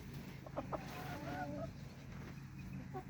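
Chickens kept in a backyard garden, with a few short clucks and faint bird calls over steady outdoor background noise, fairly quiet and at moderate distance.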